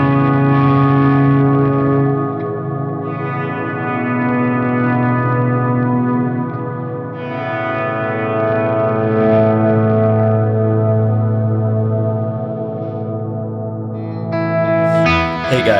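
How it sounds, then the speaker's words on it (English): Electric guitar playing sustained, shimmering chords washed in reverb and delay with dynamic control, swelling and fading in layered waves throughout, with a brief brighter flourish at the end. "put it all together. The reverb, the delay, the dynamic control,"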